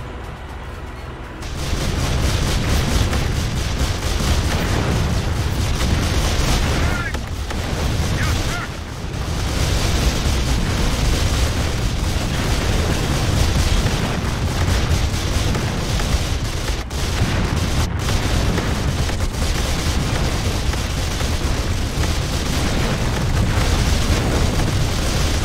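Dense, continuous roaring explosions and booms from the VR strategy game Final Assault, loud and sustained with a few dips, no voices over them.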